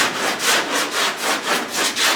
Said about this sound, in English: before it's ready to sand it, you just keep going.